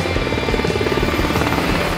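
A firefighting helicopter's rotor chop thumps rapidly and loudly under a steady engine whine, close by and continuous, over a commercial structure fire in Coachella.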